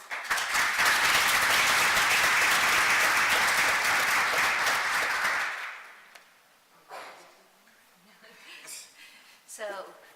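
An audience in a meeting applauds loudly for about five seconds, then the clapping fades out and a few scattered sounds and brief talk follow.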